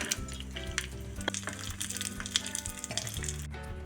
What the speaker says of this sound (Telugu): ముందుగా బాదం ముక్కలు కొంచెం ఫ్రై అయిన తర్వాత కాజు వేసుకోవాలి